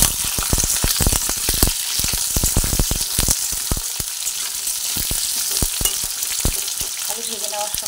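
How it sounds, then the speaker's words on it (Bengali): Cut potatoes frying in hot oil with a bay leaf make a loud, dense sizzle, with rapid spatula scrapes and clicks while they are stirred steadily throughout, close up and with no one talking. "প্রথমেই আলুটাকে ভেজে নিই।"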